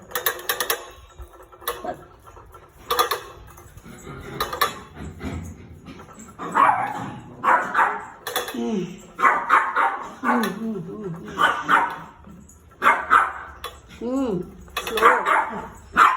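Several homeless dogs yelp and bark in short, excited bursts around their food dishes at feeding time, close by, mixed with a person's speech and clinking of bowls.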